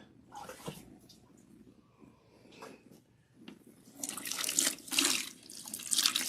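Water running and splashing as a protein treatment is rinsed out of natural hair without shampoo, soft at first, then a louder, steady rush over the last two seconds.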